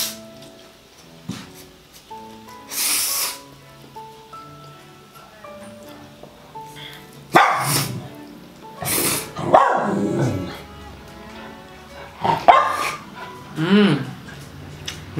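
A pet dog barks in a home during a Filipino noodle mukbang, with several loud, scattered barks and growly yips spread across the stretch, near and clear over a quiet room.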